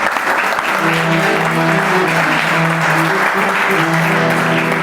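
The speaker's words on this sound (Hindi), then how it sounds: "तो इनकी पहली फरमाइश है तो एक ताली बजनी चाहिए" An audience at a bhajan concert in a yoga sadhana hall in Gurgaon claps in a dense, sustained burst of applause that fills the room steadily from start to finish, loud and close.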